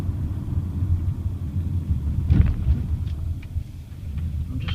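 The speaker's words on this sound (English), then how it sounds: "just bumping down onto all that gravel and stuff" A 2018 Kia Sportage 2.0 CRDi KX-3 automatic with all-wheel drive bumps over gravel, heard from inside as a constant low road rumble with a heavier thud partway through and faint crunchy ticks above it.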